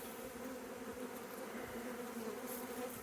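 Honeybees swarm during a hive removal, producing a dense, steady buzzing drone that is close and fills every moment, with no voices.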